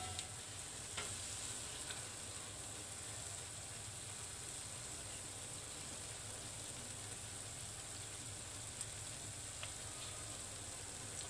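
Gulgule, sweet jaggery fritters, frying in hot oil, a continuous faint even sizzle with occasional light ticks, close and steady throughout with no talking.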